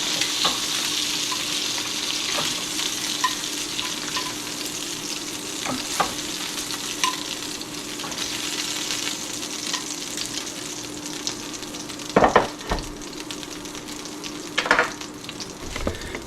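Wild hog pork sears in a hot pan with a steady, continuous sizzle and crackle, broken by a few brief clanks and scrapes of utensils near the end, with no voices.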